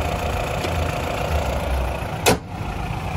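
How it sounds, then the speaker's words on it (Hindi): A Mahindra Bolero FB pickup's CNG engine idles steadily with a low, continuous rumble close by, interrupted by one brief sharp click. "तो ऐसी कुछ गाड़ी की इंजन की आवाज़ है आपको दोस्तों"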